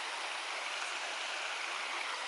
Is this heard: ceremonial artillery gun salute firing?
no